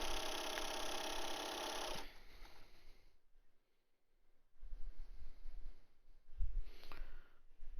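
A home sewing machine stitching fabric masks runs in a loud, steady mechanical whirr for about two seconds and then stops, leaving faint rustles and soft handling noises.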